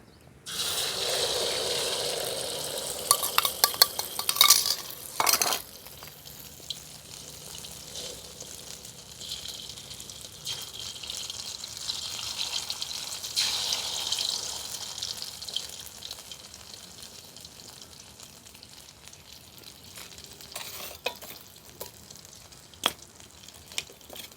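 Beaten egg with cha-om (acacia) leaves fries in a pan, giving a steady crackling sizzle that lasts throughout. An early burst of clatter and some scattered ticks sound like the pan and utensil.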